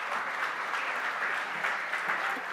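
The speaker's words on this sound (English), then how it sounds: "a big round of applause for the day today" Steady audience applause at an advertising industry conference session, a continuous even wash of many hands clapping with no voices above it.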